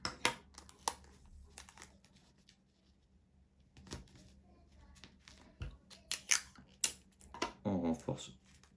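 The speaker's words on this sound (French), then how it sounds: "Voilà, un dernier bout de ruban adhésif." Adhesive tape is torn and pressed onto a homemade face mask, giving several short crackling, crinkly bursts close by, separated by quiet gaps.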